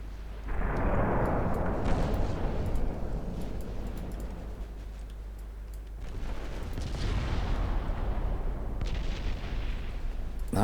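Naval gunfire in the warship battle game Ultimate Admiral Dreadnoughts, with heavy rumbling booms of big guns firing at night, then a second salvo of loud, reverberating blasts that roll on and fade.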